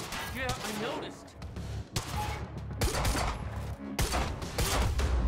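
Gunfire in the video game Quantum Break, repeated loud shots and bursts thudding through the clip, some layered with game effects and heavy low impacts.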